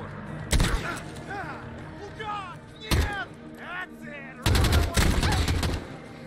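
Video game gunfire in Modern Warfare (2019): sharp, loud rifle shots crack out in isolated bursts, with a dense volley near the end, while someone talks between the shots.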